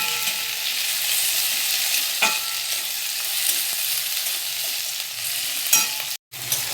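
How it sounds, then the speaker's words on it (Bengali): Chopped tomatoes and onions sizzle in an oiled pan while being stirred: a steady, close frying hiss with occasional scraping clicks of the spoon, and no speech. "এবারে এর উপরে দিয়ে দেবো কেটে রাখা টমেটো। কেটে রাখা টমেটোটাকে দিয়েও একটু লাল করব।"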